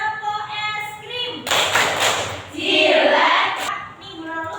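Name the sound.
class doing rhythmic ice cream clapping game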